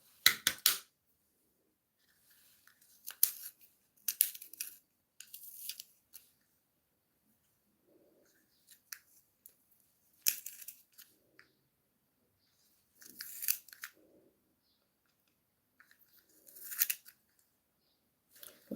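A makeup pencil is sharpened by hand, with short bursts of crisp scraping and shaving that come in irregular clusters separated by quiet pauses, close and fairly faint.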